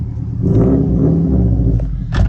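A turbocharged 2004 Subaru Forester 2-litre XT engine revs up loudly with a deep, rumbling roar, swelling and holding before a sharp burst near the end; close and unaccompanied.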